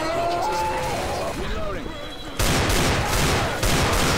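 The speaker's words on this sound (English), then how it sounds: "You shoot her lots of times. Like 57 times. In the chest." Rapid gunfire in Left 4 Dead 2 as the Witch is shot over and over in the chest, loud dense bursts filling the second half after quieter game noise and talk.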